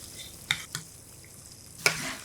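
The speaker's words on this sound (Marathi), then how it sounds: "आता गॅस मध्यम आचेवर करून घ्यायचा आणि पाच मिनिट पाक शिजवून घेऊयात" Sugar syrup simmers in a pan over a medium flame for coconut rava laddoo, giving a soft low bubbling hiss broken by a few sharp spoon clinks against the pan.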